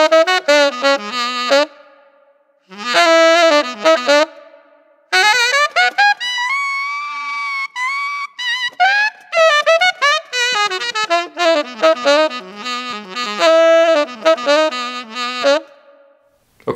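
Saxophone played through a Line 6 Helix processor with reverb, compression and EQ, performing melodic phrases with sustained notes and short pauses between lines, close and loud with no talking.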